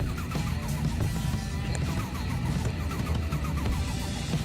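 Engine sound of a car starting up and running in a racing video game, a steady mid-pitched drone with rhythmic revving pulses, loud and continuous with no talk.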